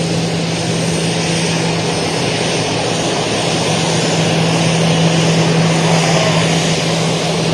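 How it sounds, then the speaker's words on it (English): A private jet's engine gives a steady, loud, continuous roar with a droning hum that holds unchanged for several seconds, with no voices over it. "The private jet."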